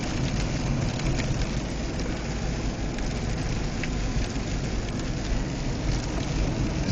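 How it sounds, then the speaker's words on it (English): Hail falls steadily during a Connecticut snow storm, heard as a dense, even hiss and patter on surfaces around a car moving slowly along an empty road, with no talking. "And you hear the hail coming down."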